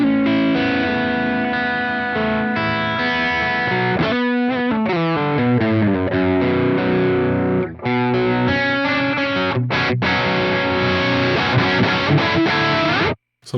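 An electric guitar plays chords through a Friedman BE-OD Deluxe overdrive pedal, the distorted tone loud and sustained, with a short pause midway and an abrupt cut at the end.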